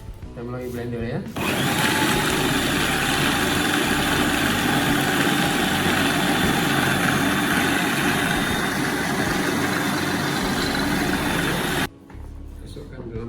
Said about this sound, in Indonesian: Kita melalui blender ya.